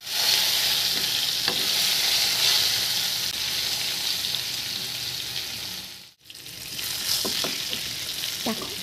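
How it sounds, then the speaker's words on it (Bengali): Diced potatoes seasoned with salt, turmeric and chili powder fry steadily in hot oil, a loud continuous sizzle with occasional stirring clatter and a brief dip before the frying resumes. "এবার ডুমো ডুমো করে কাটা আলুগুলো ওর মধ্যে দিয়ে দেবো এবং আলুগুলোকে ভালো করে ভেজে নেব"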